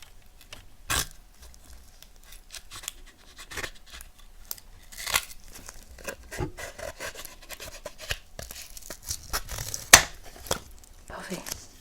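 Large scissors cut through material during a mock autopsy, producing scattered crisp snips and rasping, rubbing strokes up close, with quiet soft-spoken talk at moments.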